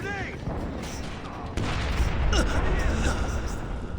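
A grenade blasts in the co-op game Splinter Cell Blacklist, a sudden heavy boom midway that leaves a loud, rumbling wash, with voices briefly heard over the noise.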